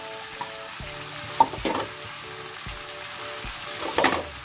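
Chicken fillet frying with zucchini and green peppers in hot oil, a soft steady sizzle with stirring clatters and utensil knocks, under quiet speech.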